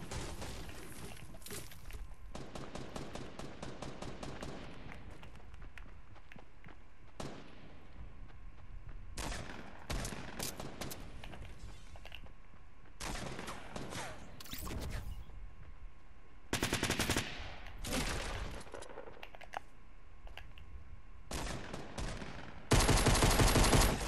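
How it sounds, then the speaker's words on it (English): Rapid gunfire in the video game Fortnite, with dense bursts of automatic shots and single cracks repeating across the whole stretch, loud and close, the last burst the heaviest. "Dude, there's shots being fired right now."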